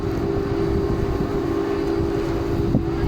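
A large air conditioning unit in Bahrain hums steadily and loudly, a constant low drone with a strong tonal band that holds unchanged throughout, with no voices over it.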